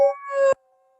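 Several voices imitate a wolf howl in a quarantine-era comedy bit: a loud, wavering, tonal howl lasting about half a second that cuts off abruptly, leaving a faint lingering hum.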